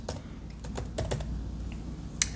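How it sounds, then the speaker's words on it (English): Keys clatter on a physical computer keyboard while someone types Windows 11 setup commands, a brief run of irregular, moderately close clicks over a steady low hum, ending with one sharper keystroke. "I'm just gonna use the physical keyboard here"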